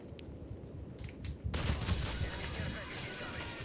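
Gunfire in Call of Duty: Modern Warfare 3 Ground War on PC, a dense burst of shots that starts abruptly partway through and carries on steadily to the end, with muffled talk in the background.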